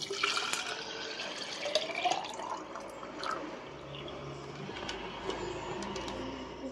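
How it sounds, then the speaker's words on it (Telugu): Tap water running into a child's water bottle in a home kitchen, a steady splashing stream with small clinks and drips, fairly close, with no talking. "ఇంకా పిల్లకి వాటర్ బాటిల్ నింపాలి."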